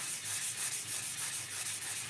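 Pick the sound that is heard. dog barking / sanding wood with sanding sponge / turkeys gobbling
sanding wood with sanding sponge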